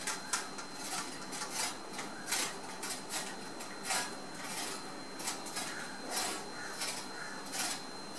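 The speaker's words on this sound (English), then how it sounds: "I'm going to grate the carrot." A carrot is rubbed against a grater in steady, rhythmic rasping strokes, fairly quiet and close, repeating roughly every half second with no talking.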